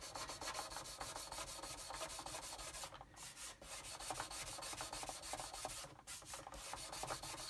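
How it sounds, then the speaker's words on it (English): Sandpaper rubbing flat across a primed plastic model kit surface, quiet rhythmic back-and-forth scratching strokes with two short pauses, close up. "So just get in here and sand all this area out nice and flat."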